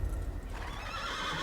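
A white horse in the video game Assassin's Creed neighs in a bright, wavering whinny close by, with faint hoof clip-clop beneath it.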